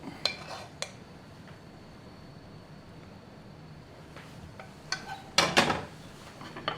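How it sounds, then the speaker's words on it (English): Brown butter is spooned from a skillet as a garnish: scattered metallic clinks and scrapes of a spoon against the pan, with a louder cluster near the end over a low room hum and no talk. "we're going to garnish a little brown butter here from the skillet"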